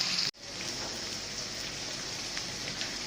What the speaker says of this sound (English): I'm allowing my season just to saute a little while.